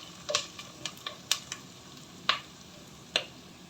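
Curry leaves and their cut stems fry in a pan for rava upma, a faint low sizzle punctuated by several sharp, spaced clicks of a spoon striking the pan as it stirs.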